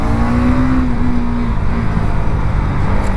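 Bajaj NS200 motorcycle exhaust revving up and easing off, a brief rising tone that then settles into a rough, steady drone, loud and near.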